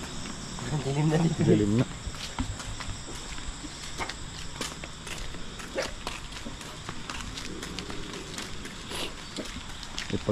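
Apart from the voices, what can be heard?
crickets chirping at night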